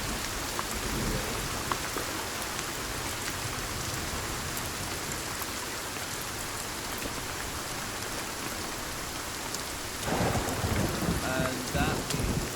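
Steady rain falls in the survival game Sons of the Forest, a dense, continuous hiss with low rumbling like distant thunder, swelling slightly louder near the end.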